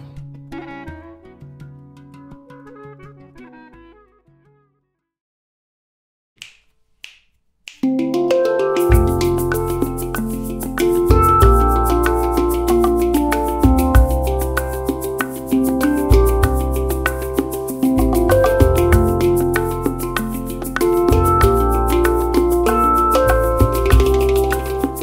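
A handpan plays a melodic piece, starting with a soft, sparse passage of ringing tones, falling nearly silent with a couple of taps, then swelling into a full, loud, sustained stream of resonant notes and rhythmic strikes.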